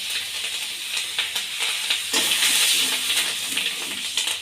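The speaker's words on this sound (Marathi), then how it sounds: "आता कढई तेल होते त्यात हळद टाकली आणि काळं तिखट टाकले कढीपत्ता टाकते" Turmeric, chili powder and curry leaves fry in hot oil in a wok, giving a steady close sizzling hiss with faint scraping pulses, heard alone without talk.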